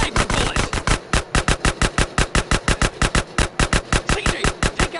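Loud, rapid gunfire in GTA, a sniper fight in the streets: a dense, evenly spaced train of sharp shots lasting the whole stretch, close and dominant with no talking.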